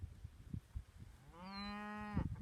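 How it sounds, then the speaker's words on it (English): A single cow moos on a pasture, one long drawn-out call rising out of quiet outdoor background noise partway through and ending abruptly, with no voices. "let's move these cows"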